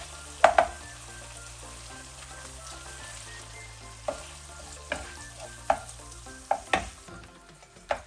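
Prawns go into a hot wok of sauce for Malaysian fried rice, raising a steady close sizzle broken by sharp clinks and scrapes of a spatula stirring. Music plays softly underneath and nobody speaks.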